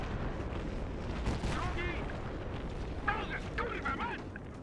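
Gunfire from Battlefield 3 gameplay, sharp shots over a dense, rumbling battlefield backdrop, with a voice talking over the action.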